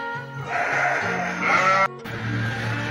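Purebred Garut sheep bleating in a livestock pen, a few loud, drawn-out calls overlapping one another at close range, with no voices.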